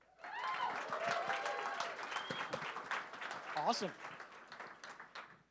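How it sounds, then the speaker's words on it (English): An audience at a startup event applauds its beer sponsor, a law firm, with steady clapping throughout, and a voice speaks briefly over it. "So give a round of applause for Founders Legal."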